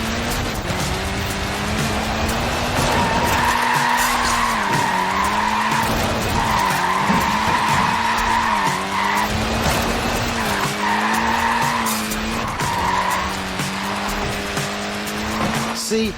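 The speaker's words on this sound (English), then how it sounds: "Look at that, laying down some rubber there." Tyres of a Mini skid and squeal loudly and continuously in Forza Horizon 4, a wavering high screech over a steady engine drone that bends and surges through repeated slides.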